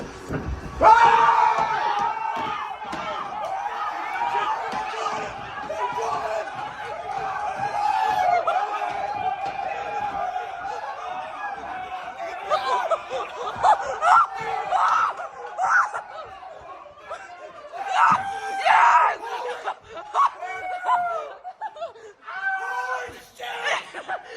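A football stadium crowd screams and cheers on a replay of a Bears win over the Packers, loud excited yelling and shrieks that rise and fall in bursts, mixed with laughter and nearby voices talking.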